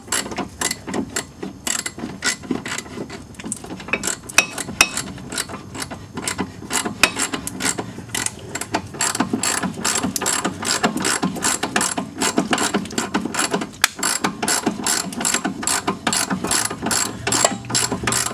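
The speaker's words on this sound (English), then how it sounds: "use your ratchet to spin the bolt" Ratchet clicking steadily as it spins a bolt through an Audi A4 B5 1.8T control arm, a fast continuous run of sharp pawl ticks, close and fairly loud, with no talking.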